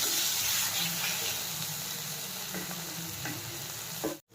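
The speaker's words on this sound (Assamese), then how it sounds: "বিলাহীখিনি ভালকৈ সিজালৈকে ভাজি থাকিম।" Tomatoes for chicken curry fry in a hot pan with a loud, continuous sizzle, close up, and occasional scraping stir strokes before the sound cuts off abruptly at the end.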